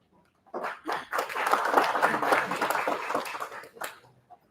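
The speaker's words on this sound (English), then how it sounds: "Once again, a huge round of applause for Samriddhi," A seminar hall audience at IIT Delhi gives a round of applause, rising quickly into a full, even burst of clapping that lasts a few seconds before thinning out to a few final claps.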